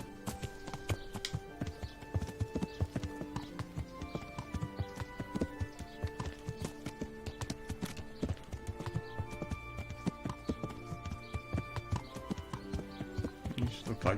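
Steady clip-clopping horse hooves trot along in a quick, even rhythm in Kingdom Come: Deliverance, layered over game music with sustained tones throughout.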